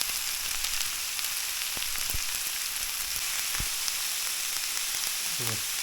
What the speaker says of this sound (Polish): Cebula z papryką i z czosnkiem się smaży.